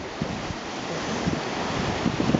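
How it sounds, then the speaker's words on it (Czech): Strong wind buffets the microphone over the steady wash of surf on the Canary Islands coast near a lighthouse, a continuous roaring rush with occasional gusty thumps. "Moc se fouká, no, to klidný."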